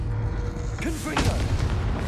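A Confringo spell blast in Hogwarts Legacy lands as a burst of explosive impacts over a game background, with a brief voiced exclamation as the blasts go off.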